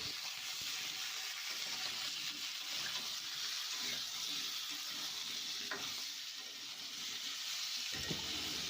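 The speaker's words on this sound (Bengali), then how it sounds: "আলু কুমড়োটা ভালো করে নাড়াচাড়া করে ভাজা ভাজা করে নেব।" Chopped potato and pumpkin fry in hot oil in a pan while being stirred, the start of a rui fish head and pui shak chorchori; a steady, fairly quiet sizzle runs throughout with occasional soft scraping of the spatula.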